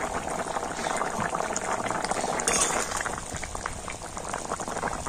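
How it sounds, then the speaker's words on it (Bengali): Potatoes boil in a covered pot of curry, giving a steady, close bubbling and rolling simmer that runs unbroken throughout, with a faint clink of a utensil midway. "আর এবার আমি ঢাকা খুলে দেখে নেব আলু সিদ্ধ হলো কিনা।"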